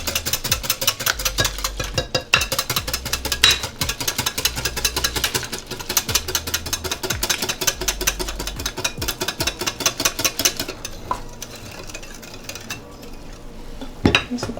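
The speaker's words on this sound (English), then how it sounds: "So while whisking, I just add a little bit of flour, and keep adding flour as I go." Finnish pancake batter whisked briskly in a bowl as flour is added, a continuous close rattling scrape of whisk against the bowl with rhythmic soft thumps underneath, easing off toward the end.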